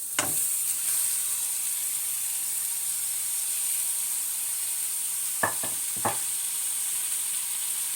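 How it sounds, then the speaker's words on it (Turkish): Beef sizzles in a hot pan for Mersin tantuni, a steady bright frying hiss throughout with a few sharp spattering crackles and stirring clicks, no talking. "etlerimize yavaş yavaş tavaya dökmeye başlayacağız. Tava ısınmış oluyor"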